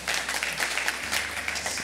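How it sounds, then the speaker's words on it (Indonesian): A church congregation applauds, with steady, fairly soft clapping that forms a continuous patter of many hands. "Tepuk tangan buat Tuhan."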